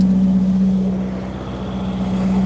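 A loud, steady Ferrari 488 GTB engine drones close by with the bonnet open, holding a low hum with slight swells in intensity, no voices.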